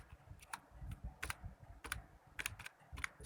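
A computer keyboard clicks rapidly and irregularly as someone types code for an invoice and inventory userform, with quick bursts of keystrokes and short pauses and no talking.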